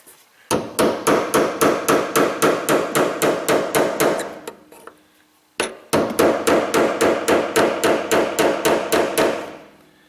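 Repeated hammer blows on a Kia Rondo engine part, struck in two fast, steady runs of loud metallic hits with a short pause between them, close and clear with no talking.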